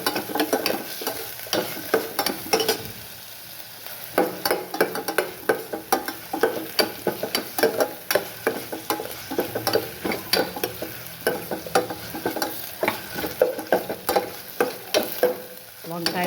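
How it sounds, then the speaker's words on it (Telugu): Onions, green chillies, curry leaves and ginger garlic paste frying in a pan for a broad bean curry: a loud, continuous sizzle broken by repeated sharp crackles and stirring scrapes. "చిక్కుడుకాయ కూరకి ఇది ఫ్రై అవుతుంది."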